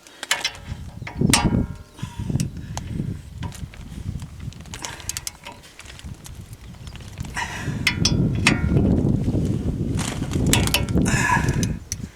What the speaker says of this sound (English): you want to go ahead and torque these again to 130 foot-pounds